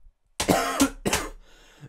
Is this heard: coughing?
yes